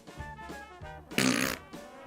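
A voice imitates a fart by blowing a raspberry with the lips, one loud, buzzy, spluttering burst lasting about a third of a second, set among quieter voiced sounds.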